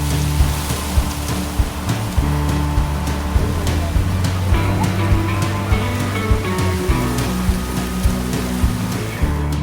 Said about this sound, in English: Nugget Falls, a roaring waterfall that flows into the same glacial lake